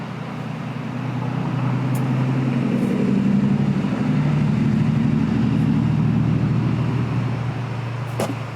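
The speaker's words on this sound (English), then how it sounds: "I think that's the last car of the night. I heard it go back" At night in the Tillamook Forest, a car engine hums steadily and then slowly fades as the vehicle moves off into the distance, a low rumble with no voices.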